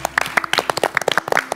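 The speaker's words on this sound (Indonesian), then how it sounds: "Tepuk tangan lu dong dengan IPB untuk IPB." Applause for the IPB team at a quiz-show taping, with individual claps distinct in a quick irregular patter from a small group close by, short and with no talking.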